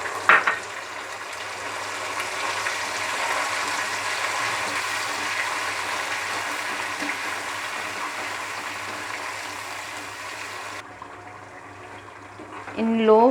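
Chili paste sizzles steadily in hot oil over a low flame, a soft continuous frying hiss that runs for several seconds before dropping off near the end, with faint kitchen clatter.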